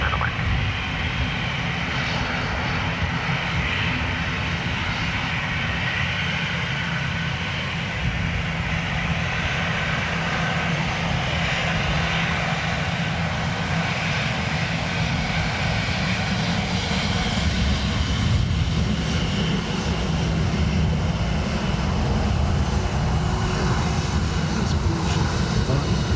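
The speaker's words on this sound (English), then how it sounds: "Runway 10 right, clear for takeoff, don't spin away." Qatar Airways Airbus A350 jet departing Dublin Airport's runway 10 right on a windy day, a loud sustained engine roar with broad rumbling wind noise, continuous and steady throughout.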